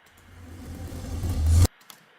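A reversed dubstep sample segment, faded up, swells steadily in a rumbling rush and then cuts off abruptly near the end.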